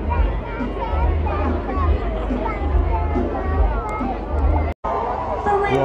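A large crowd murmurs and chatters in a packed town centre at Redditch's Christmas lights parade, with continuous overlapping voices nearby and a brief dropout near the end before the hubbub resumes.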